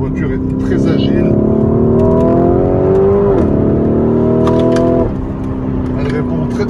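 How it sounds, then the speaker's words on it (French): A modified Lamborghini Urus driven on a mountain road, its engine droning loudly from inside the cabin with steady rising pitch that drops sharply at a gear change, then climbs and shifts again, with someone talking over it. "la voiture est très agile."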